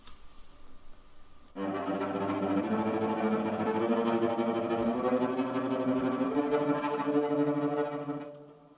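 A sustained bowed cello tone shimmering with rapid tremolo, starting after a brief quiet moment and holding steadily loud for several seconds.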